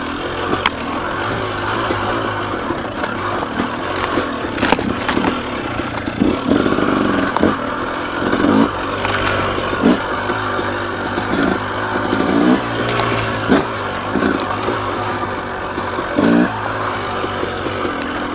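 A KTM 300 XC dirt bike rides single track in low gear, its two-stroke engine lugging and blipping in short bursts. Clattering and thumps from the trail run through the steady close-up drone.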